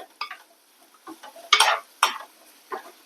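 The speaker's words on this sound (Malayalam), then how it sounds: "എല്ലാം നന്നായിട്ടൊന്ന് വറുക്കണം" Pappadam and egg curry mixture is stirred in a hot pan, producing a few separate bursts of scraping and light sizzling, with quiet gaps between strokes, close and without any talking.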